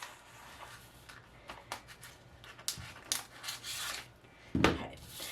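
A blade trims transfer tape over layered vinyl on glass. Soft scraping and cutting strokes come in irregular bursts close by, with a sharper scrape near the end and no talking.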